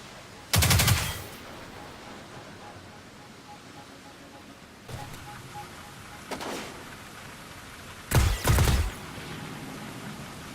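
Video game gunfire in Destiny 2, heard as three separate bursts of rapid automatic shots: a loud first burst, a quieter pair of shorter bursts in the middle, and another loud burst near the end.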